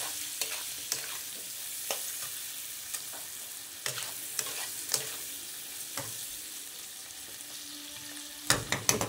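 Eggs fry gently in a pan with a soft, continuous sizzle, punctuated by light scraping and stirring clicks of a utensil, fairly quiet and close with no voices.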